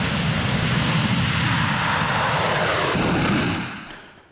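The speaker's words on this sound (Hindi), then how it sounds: "उसके एयरक्राफ्ट देखिए ताइवान के आसमान में कैसे मंडराते हुए नजर आ रहे हैं" Military aircraft fly overhead in Taiwan's skies during Chinese military drills, a loud, steady engine roar that holds, then fades away near the end, with no talking.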